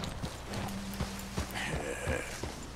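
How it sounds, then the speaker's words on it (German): Horse hooves clip-clop in Red Dead Redemption 2 as the horse walks, giving a steady run of distinct hoofbeats at moderate volume with no one talking. "Aber Pferd wird noch langsamer."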